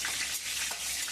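Radhuni seeds, a bay leaf and two dried red chillies sizzle in hot oil as the base for a spicy pangas fish curry, a steady close frying hiss with no talking.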